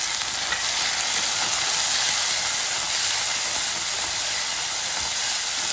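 Tomatoes sautéing in hot oil in a pan for a hotel-style roasted-ground tomato rice, giving a steady, loud, unbroken sizzle and hiss with no talking.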